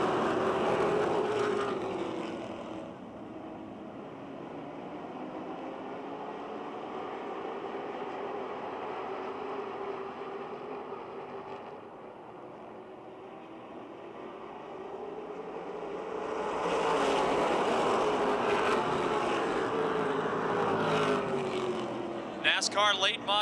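Roaring NASCAR Super Late Model race cars at Motordrome Speedway during a 50-lap race, engines swelling loud, fading as the pack moves away, then surging close again, with an announcer talking over the noise.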